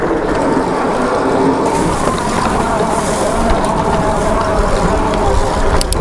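Steady, loud wind roar buffets the microphone on a moving Wired Cruiser e-bike, a continuous broadband rush with a faint mechanical rattle underneath.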